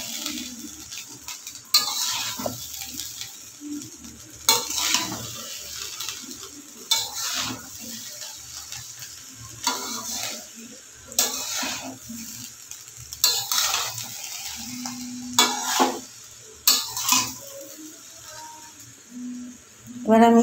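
Meat and shrimp stirred into homemade mixed fried rice in a pan, heard as repeated scraping and clanking of a spatula against the pan at an unhurried pace over a low, faint sizzle.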